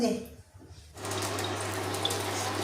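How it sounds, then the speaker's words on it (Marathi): Water poured over freshly churned butter to wash it, a quiet start and then a steady running stream splashing into a vessel, close and continuous. "आता आजी जे आहे लोणी जे काढलेलं आहे ते धुवून काढताय. 2-3 वेळेस असं पाणी टाकताय."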